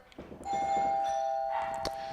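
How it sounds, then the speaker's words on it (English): A doorbell chimes at home, two sustained bell tones ringing out clearly after a few soft knocks or thumps, the tones lingering and fading slowly with a faint extra chime near the end. "Why they gotta ring the doorbell like they the law?"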